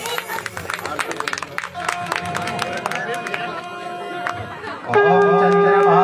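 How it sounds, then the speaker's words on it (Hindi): Devotees clap along in unison during a Hindu aarti at a Nani Bai ka Mayra katha, with crowd babble and chatter filling the hall, then sustained singing and instruments swell in near the end. "बड़े भाव से ताली बजाते हैं सब लोग"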